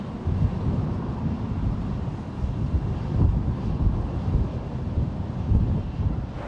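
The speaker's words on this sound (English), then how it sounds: "It's a little tricky out here with the wind" Wind buffets a microphone outdoors at an airport, a steady low rumbling gusty roar with small surges and no talk.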